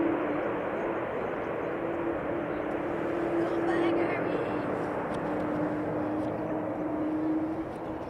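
An airliner touches down on the Polderbaan runway at Amsterdam Schiphol Airport, heard as a steady distant engine rumble with a faint droning tone that holds at an even level throughout.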